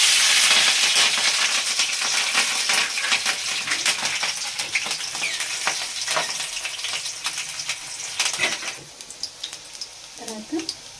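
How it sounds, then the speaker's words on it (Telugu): Green chilies spit and crackle loudly in hot oil, a dense close sizzle with sharp popping bursts and scraping stirs that gradually settles toward quieter frying near the end. "ఇప్పుడు ఆయిల్ పోసుకొని దాంట్లో ముందుగా పచ్చిమిర్చి వేసుకోవాలి"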